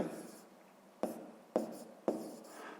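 A pen writing a fractions solution for a fifth-grade math exercise on paper: quiet, close scratching strokes broken by three sharp taps, with no talking.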